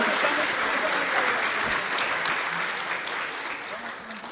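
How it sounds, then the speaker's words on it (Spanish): Applause from an audience honoring the speakers at a public security event in Medellín, a dense steady wash of many hands clapping at once, loud and close, fading slightly toward the end. "Un fuerte aplauso para ellos, por favor."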